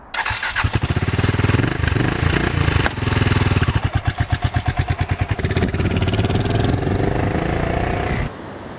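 A BSA Goldstar motorcycle engine runs loud and close, a steady single-cylinder thump with a pulsing, uneven stretch midway, then drops to a quieter idle near the end.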